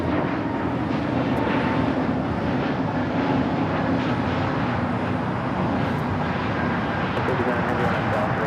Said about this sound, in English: This Frontier 1062 taking off to Phoenix on the A320 Neo